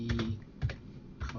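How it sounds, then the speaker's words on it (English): Computer keyboard keys tapped while a password is entered for the game Star Trek Online: three short clustered bursts of clicking, close and clear, with quieter pauses between. "You type in your password,"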